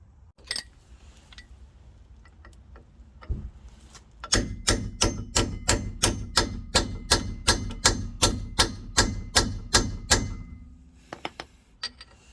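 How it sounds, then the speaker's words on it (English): Steady, rapid metal hammer blows on a part of a 2009 Peugeot 207 CC, about twenty strikes in a regular rhythm, loud and close, after a few scattered knocks; no one speaks. "Sure you hammer that up like that."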